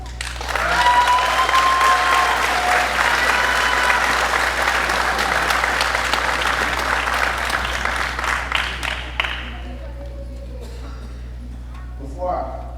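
Applause fills the room at an elementary school graduation ceremony, a broad sustained clapping from the audience that swells early, then thins and fades out over the last few seconds, with a low steady hum beneath.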